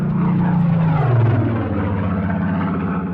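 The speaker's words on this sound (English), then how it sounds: "obviously the planes are above me" Airplanes drone overhead in an Anne Frank House virtual reality scene, a loud, steady engine rumble with a low tone that slides downward as it passes, no voices present.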